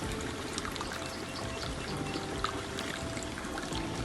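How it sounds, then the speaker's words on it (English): Water flows steadily in rural woods in Zimbabwe on a dry day, a faint continuous trickling and pouring wash with small splashes and no talking. "considering that it's not raining, and the sound of that water"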